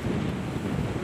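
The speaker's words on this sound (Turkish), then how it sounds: "Şu an 20 knot rüzgar var." Steady 20-knot wind at sea aboard a sailboat, a dense continuous roar and buffet with water rush, loud and close, with no voices.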